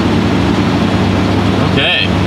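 A 1991 Ford F-150 engine, left sitting for eight years, turns over and catches, then a steady, loud low rumble runs throughout, with a brief voice near the end.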